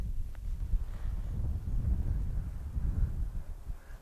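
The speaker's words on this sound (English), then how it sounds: "So you can see we got a good wind blowing." Strong outdoor wind buffets the microphone in a steady low roar, rising and falling slightly over a few seconds, with no voices over it.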